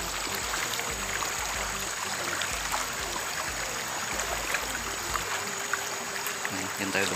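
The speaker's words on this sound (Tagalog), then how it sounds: "Ilog pa tayong dadaanan" A river stream flows with a faint, steady rush of water that continues unbroken from start to finish.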